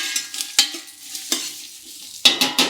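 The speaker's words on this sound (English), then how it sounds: "If it's not sizzling, it's not cooking." Onion sizzles in a pot as the start of a tomato soup, a steady frying hiss broken by several sharp stirring scrapes and clatters, close by with no talk.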